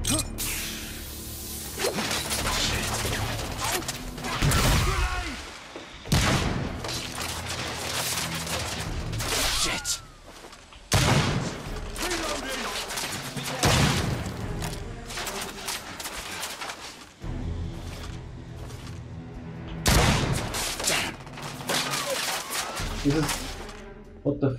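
Gunfire in The Order 1886, a third-person shooter set in a gritty Victorian world: bursts of shots and swishing impacts come in loud clusters across the whole stretch, with a voice talking over the action.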